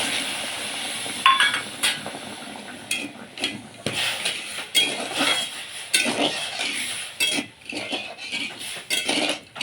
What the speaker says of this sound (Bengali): দিচ্ছি 1 বাটি চিনি, আর এর মধ্যে দিয়ে দিচ্ছি 1 বাটির একটু কম জল।